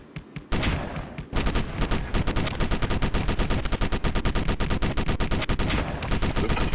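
Rapid bursts of 50 mm gun fire in the space combat game Space Engineers, a dense, loud string of heavy repeated shots after a brief quieter opening, continuing steadily with no talk.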